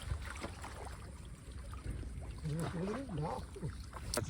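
A small boat passes on open water during a fishing trip, a steady rushing wash with wind, while a voice speaks briefly midway.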